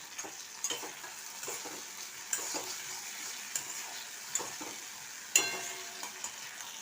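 Three pieces of raw mango fry in a ground paste of mustard, poppy seed and dried chilli, making a soft, steady sizzle broken by light, irregular spoon taps and scrapes against the pan.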